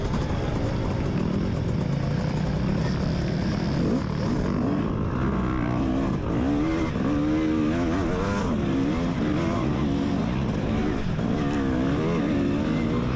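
Off-road dirt bike engines drone and rev continuously through a wooded GNCC race course at Big Buck, loud and sustained with shifting pitch as bikes pass.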